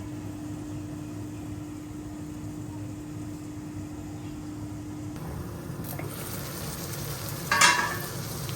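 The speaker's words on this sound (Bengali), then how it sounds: "অনেকটা সময় নিয়ে বন্ধুরা আলু বেগুন সব কিছু কষাই নিচ্ছি" Potatoes and aubergine fry in a lidded pan for a Bengali prawn curry, making a soft, steady, muffled sizzle under a low hum, with a short louder clatter near the end.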